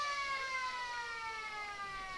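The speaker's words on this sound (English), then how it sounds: "As the siren goes for quarter time." Quarter-time siren sounding at a 2025 Riverina Australian rules football match between the Lions and Goannas, a steady, sustained electronic wail holding for a couple of seconds with no talk over it.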